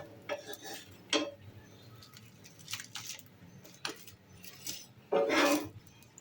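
A spatula scrapes and clinks against a hot pan while loosening the edges of a wheat rava dosa, in a few short, separate metallic scrapes with a louder scrape near the end.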